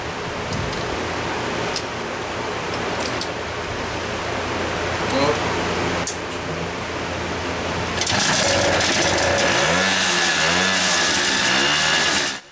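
A Garelli VIP moped's small engine catches and starts, its rough, buzzing run growing steady and loud, with the starting effort heard before it fires up.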